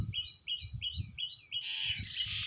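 A small bird repeats a bright chirping note about five times in an even rhythm, then several birds join in a busier twittering.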